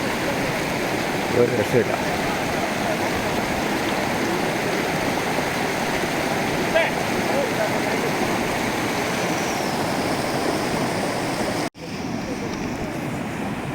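Icy glacier meltwater rushes across a road at a water crossing in Ladakh, a loud, continuous broadband roar and splash close by, with a short spoken remark over it and a brief dropout near the end.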